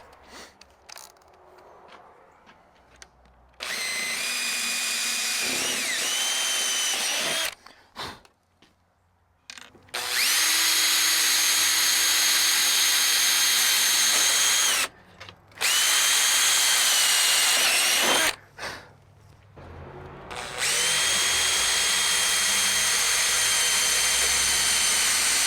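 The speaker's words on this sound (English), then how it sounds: "We need a 7/32 drill bit." Power drill drilling 7/32-inch rivet holes in a Freightliner FLD truck's steps, whirring in several long bursts separated by short pauses and quiet gaps, close and loud with a high steady whine.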